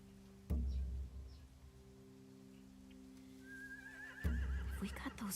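A horse in The Walking Dead Season 4 video game whinnies with a rising, wavering call near the end, after two sudden thuds and a low steady hum.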